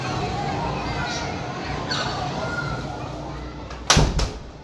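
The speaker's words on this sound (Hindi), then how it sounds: "तो दरवाज़ा पहले करते हैं हम बंद।" A household door swings shut with a single sharp thud, closing off a steady wash of background noise from children playing nearby.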